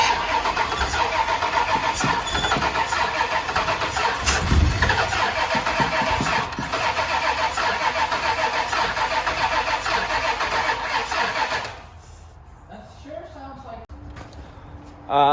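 A car engine with a starting problem cranks loudly and at length, churning without catching cleanly, then drops away into quieter clicks and rattles before a final burst at the end.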